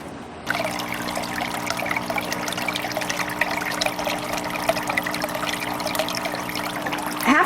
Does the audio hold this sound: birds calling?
no